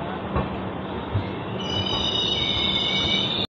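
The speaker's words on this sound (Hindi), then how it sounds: "ये प्लेटफॉर्म नंबर 3 पर आज अराइवल हुआ है हमारी ट्रेन का लखनऊ चारबाग रेलवे स्टेशन पे" A train pulls into platform 3 at Lucknow Charbagh railway station, its steady rolling rumble joined midway by high, sustained wheel squeal that holds loud and close until it cuts off abruptly.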